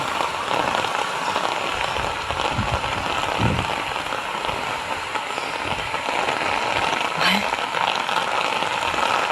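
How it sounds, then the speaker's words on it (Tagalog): Steady rain pattering on surfaces, a dense continuous hiss with a faint voice and passing noises in the background. "Ulan na naman."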